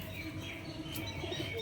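Rajshahi Giribaz and Gorra pigeons give soft, steady cooing and chirping calls close by, a continuous murmur of birds with no voices over it.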